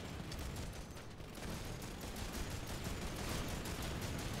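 Gunfire in a video game rattles in dense, rapid bursts, loud and continuous for several seconds, with no talk.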